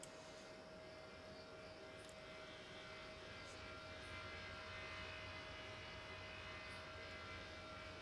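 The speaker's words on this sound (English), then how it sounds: "It's a Southwest 1797 coming into land on runway 36 center." A Southwest airliner landing on runway 36 center at Cincinnati in a tower simulator game, a steady broadband engine roar with a sustained tonal whine running evenly throughout, with no voices.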